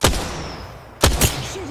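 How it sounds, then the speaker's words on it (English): Gunfire opening on an enemy: a sharp, loud bang, then after a short pause two more close-spaced shots ringing out nearby. "Opening fire on the enemy."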